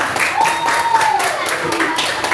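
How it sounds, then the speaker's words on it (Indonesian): A primary school class of children clapping their hands together in rhythmic bursts, a run of sharp, evenly spaced claps filling the room, with a faint whistle-like tone gliding underneath and no clear talk. "ayo mari kita tepuk tangan bersama"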